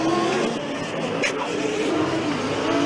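A Monash Formula Student race car runs steadily and loudly through a continuous drive-past during an endurance session, with the engine noise broad and sustained and no clear break in it.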